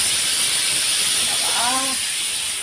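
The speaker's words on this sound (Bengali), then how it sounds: "এখানে গাজর সেদ্ধ হচ্ছে।" Carrots boiling in a pot, a constant loud hiss of steam filling the kitchen, with a brief tonal whistle-like sound midway.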